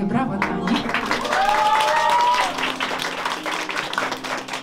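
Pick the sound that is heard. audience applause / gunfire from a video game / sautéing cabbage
audience applause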